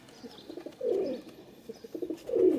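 Female teddy breed pigeons give two soft, low coos close by, the second one near the end, against a quiet background.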